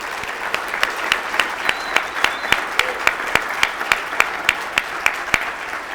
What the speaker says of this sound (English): Can you join me in just giving them a round of applause?